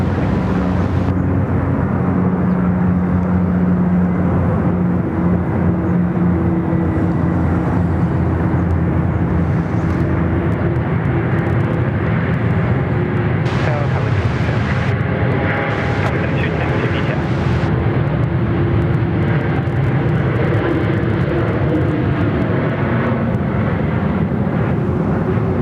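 A Qantas airliner lines up on runway 34 at Sydney Airport under a loud, steady roar of jet engines, with voices speaking over the constant rumble.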